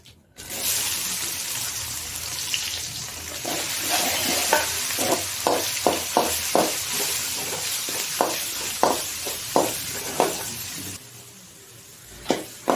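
Onions and urad dal fry in hot oil for rava upma with a close, continuous sizzle. A spatula stirs in a regular run of scraping strokes through the middle, and the sizzle drops off quieter near the end.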